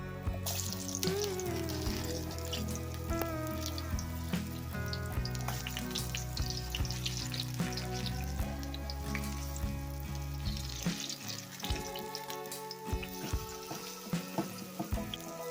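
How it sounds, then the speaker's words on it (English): Ripe banana fritters fry in hot oil for a Jamaican recipe, giving a steady, continuous sizzle and crackle that runs throughout beneath prominent background music. "continue to fry out all our fritters"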